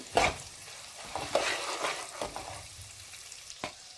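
Dried red chillies fry in oil for Melukote-style puliyogare gojju, a soft, fairly quiet sizzle broken by a few sharp spatters and stirring scrapes.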